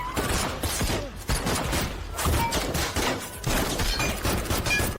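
Bursts of gunfire from a 2020 Indian action film, where one man shoots down ten people. Dense, loud volleys crackle in repeated waves with brief gaps, layered over a busy movie soundtrack.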